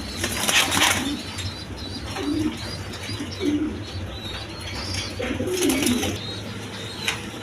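Pigeons offered for sale, including a Chuachandan male, coo in soft repeated low phrases close by, with bursts of wing flapping and occasional chirps.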